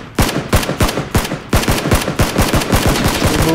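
Automatic weapon fire in the video game PUBG (Battlegrounds), loud, rapid bursts of sharp shots in close succession, nearly continuous across the moment.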